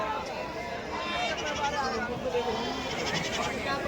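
Goats bleat amid a dense crowd hubbub, with people talking throughout in a busy outdoor market din at the goat market in Dondaicha.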